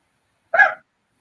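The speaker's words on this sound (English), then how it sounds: "Because that's Peanut barking right there" A single short dog bark, close and fairly loud, a quick yelp-like burst standing alone in silence.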